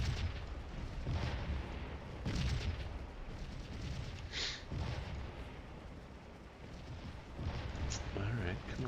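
Union artillery booms across a Civil War battlefield in Scourge of War, dull rolling blasts repeating beneath constant battle noise while a player talks throughout.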